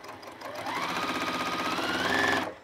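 A new sewing machine stitching in one steady run, its motor humming with a fast regular needle rhythm for about two seconds before stopping.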